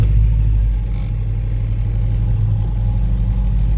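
The engine of a Saab 96 barn find runs loud and close after a cold start. It holds a steady, deep, rumbling idle with a slight throb and no voices.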